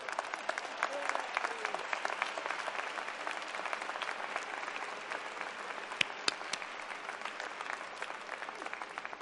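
Sustained applause at a university commencement ceremony honoring a 50th reunion class, an even wash of many hands clapping, fairly distant and steady throughout.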